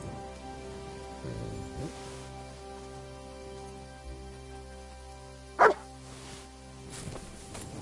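One sharp, close dog bark stands out over a steady hiss of rain and a low ambient drone in the medieval game Kingdom Come: Deliverance II, with a few softer thuds and movements around it.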